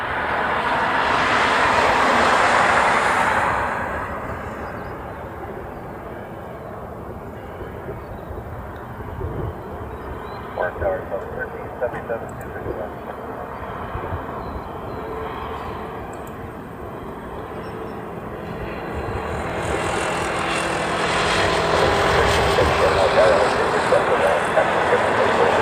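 An Airbus A380 airliner arrives at Honolulu airport, its jet roar swelling loudly at the start, easing to a distant rumble in the middle, then building again toward the end.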